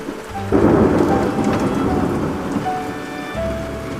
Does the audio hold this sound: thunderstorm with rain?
yes